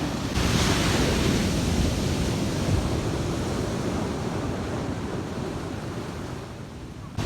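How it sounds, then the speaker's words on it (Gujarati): A stormy sea with big, heavy waves driven by a rain system, heard as a loud continuous roar of surf and wind buffeting the microphone, with no voices. "એકદમ ભારી મોટા મોજા સાથે દરિયો તોફાની બન્યો છે"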